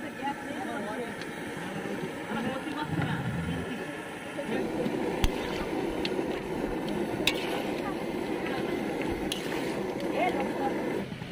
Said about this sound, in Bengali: জোয়ারের কারণে নৌকার জল আস্তে আস্তে বাড়ছে নদীতে, তো নৌকা এদিক ওদিকে একটু দুলছে